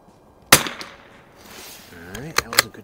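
A single sharp rifle shot from a Remington 513-T target rifle fitted with a Unertl scope cracks out close and loud, followed by faint rustling and brief speech.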